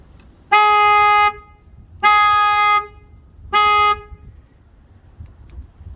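The upgraded horn of a 10th-generation Honda Civic Sport honks three times, each a steady, loud blast of about a second with short pauses between, over faint background noise.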